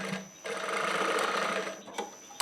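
A sewing machine stitches a straight seam on fabric, running steadily and close for most of the moment, with a brief pause and a couple of sharp clicks near the end.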